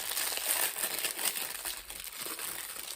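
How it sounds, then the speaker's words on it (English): Crinkly plastic packaging rustles and crumples steadily and close up as Christmas pomegranate decorations are unboxed, continuous with no speech. "Sorry for the rustling."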